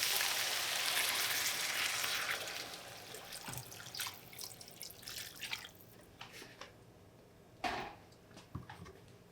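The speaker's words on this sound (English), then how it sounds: "now we're going to go down with 4 cups of water" Water poured into a pot of Japanese curry with onions, carrots and potatoes, a steady close splashing rush for a couple of seconds that gives way to scattered drips and soft clinks.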